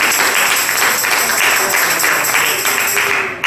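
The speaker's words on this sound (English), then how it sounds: "I dare you to clap your hands and give God praise." A church congregation at a Wednesday Bible study claps hands in praise, a loud, dense wash of applause that pulses slightly as it carries on throughout.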